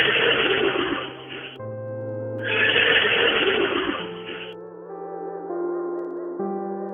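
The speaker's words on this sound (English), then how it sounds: "What does the horse say?" A horse whinnying in two drawn-out, wavering calls, clear and up close, with soft musical tones continuing underneath and afterward.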